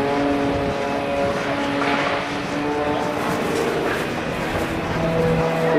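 Aerobatic propeller airplane spiraling backwards in a torque roll at an air show, a steady droning engine and propeller hum with shifting tones, heard at a moderate distance.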